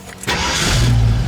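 A car engine cranks briefly and catches, then settles into a steady, loud idle close by, with a low rumble that holds after the start.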